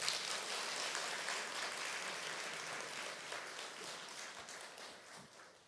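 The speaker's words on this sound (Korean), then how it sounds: "우리 학생들 오늘 다 온 아이들 위해서 격려의 박수를 한번 해주시죠" Sustained audience applause fills a hall at a church story concert as people clap to encourage the students, steady and dense throughout and slowly thinning toward the end.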